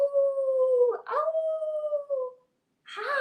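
A human voice imitating a coyote howl, drawn-out wavering tones with a short break, then a quieter yip-like call after a pause.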